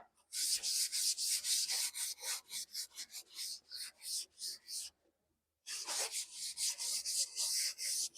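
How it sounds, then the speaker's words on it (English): A Scotch-Brite type pad scrubbing over an old pitted saw blade in a workshop: rapid, close, rhythmic rasping strokes, a brief pause, then the scrubbing resumes. "I'll usually take one of these little Scotch-Brite type pads, go over it just to see where we're at"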